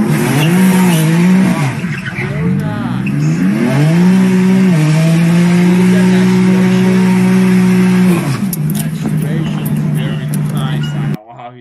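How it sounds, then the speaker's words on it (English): A BMW car revving hard with a loud, sustained engine drone that rises and falls in pitch, tires squealing through a donut before the engine pulls away under acceleration, close and dominant throughout. "Now I want to show you one donut and one acceleration for BMW car."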